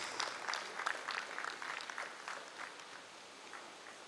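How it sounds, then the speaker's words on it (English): An audience at a national NPA event claps for the chairman, a moderately faint, steady round of applause lasting a few seconds and tapering slightly. "A bigger round of applause for him, please."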